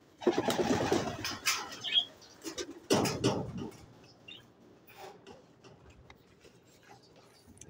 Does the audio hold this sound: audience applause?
no